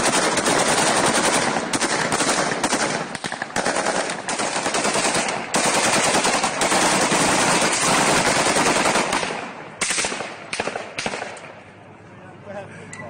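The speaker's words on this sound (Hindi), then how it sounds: "घरों पर गोलियां बरसाते दिखे यूक्रेनी सैनिक" Gunfire from Ukrainian soldiers shooting at houses: dense, sustained bursts of automatic weapons fire with overlapping shots, loud and close for most of the stretch before thinning to sporadic reports near the end.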